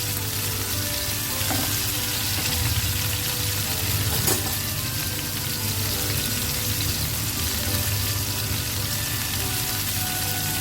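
Chicken and pasta ingredients sizzle steadily in a pan on a lowered stove flame, a continuous close frying hiss with faint clinks, and no voices.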